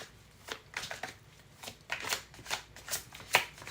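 Tarot cards being shuffled by hand, a series of close, crisp riffling bursts in an irregular rhythm, fairly quiet with no talking.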